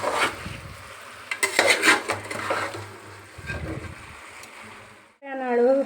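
Chilli chicken being stirred with spices in a pan, a utensil scraping and clinking against the metal in uneven strokes, close and moderately loud with some background hum.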